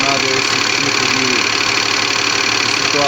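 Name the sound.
Cummins electronic engine running and revving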